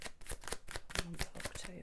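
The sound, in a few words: tarot cards being shuffled and drawn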